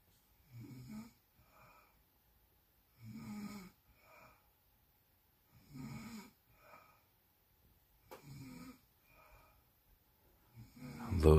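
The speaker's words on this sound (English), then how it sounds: "Little sleepy snoring like a motherfucker." Sleepy snoring recurs in slow, regular breaths, about five low rasping inhales spaced a couple of seconds apart, close and moderately loud in an otherwise quiet room, with no talking.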